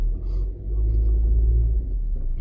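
A car being driven gives a deep, steady engine and road rumble from inside the vehicle, continuous and fairly loud, with a brief dip near the start and no speech.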